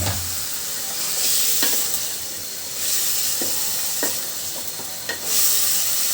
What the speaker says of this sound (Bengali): তো দিয়ে দিচ্ছি এর ভিতরে ধুয়ে রাখা সবজিগুলো